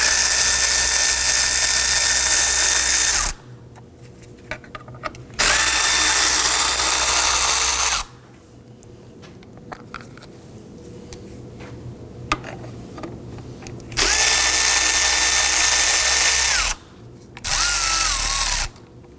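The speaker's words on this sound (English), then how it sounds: "Let's go ahead and remove our belt covers using a 10mm socket." A power tool with a 10mm socket removes the belt covers on a 2005-2009 Subaru Legacy 2.5L H4, sounding as four loud, close bursts of high whirring with quiet handling and faint clicks between them.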